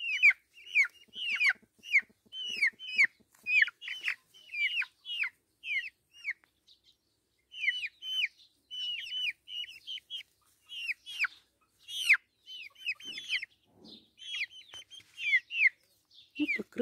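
Dark Brahma chickens, a heavy decorative meat-and-egg breed with hens and roosters together, cluck and chirp in a steady run of short calls close by, with a few louder squawks near the end and no talk.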